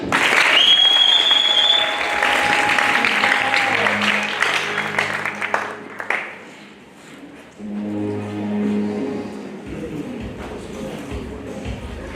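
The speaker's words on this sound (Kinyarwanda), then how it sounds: "uko ni ngombwa kumera amashyi." Loud crowd applause at a wedding ceremony, following the exchange of vows, rings out steadily for about six seconds, then fades as voices and music take over.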